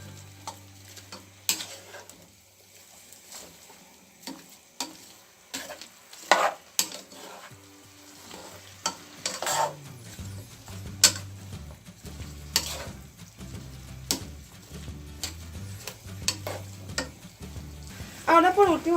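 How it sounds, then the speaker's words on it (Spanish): A pan of stewed cucumbers is stirred with irregular scraping and tapping strokes over a faint simmering sizzle. Some clinks are louder than others, and a low hum enters partway through. "Vamos a mezclar bien mezcladito."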